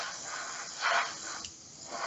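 A spray gun lays down extreme metallizer paint: a continuous airy hiss that swells in a brief louder burst mid-way and then settles back to a steady spray.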